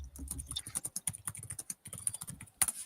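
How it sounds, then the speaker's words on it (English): Fast typing on a computer keyboard, a steady stream of light clicking keystrokes in irregular bursts, fairly close and clear, with one louder clack near the end. "I can hear Ralph typing in the background."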